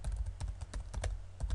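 A command being typed on a computer keyboard, a close run of about a dozen distinct key clicks at an uneven, steady pace, with nothing else heard.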